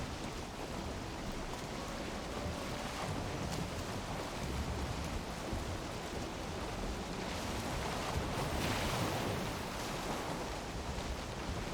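Steady broadband wind rushing in Valheim, an even, continuous hiss lasting throughout with a slight swell near the end, no voices.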